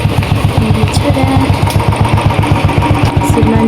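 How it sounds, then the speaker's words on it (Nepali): A motorcycle engine runs steadily nearby as the bike is readied for an outing, with a rhythmic, low pulsing idle throughout and faint background noise. "श्रीमानजी बाइक रेडी गर्दै हुनुहुन्छ"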